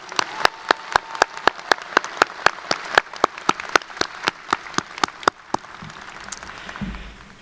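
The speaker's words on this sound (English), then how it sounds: "I want to again give him a big round of applause" At a University of Illinois Urbana-Champaign convocation, the audience gives applause heard as evenly spaced, crisp claps close by, fading out after about five seconds into a quieter room.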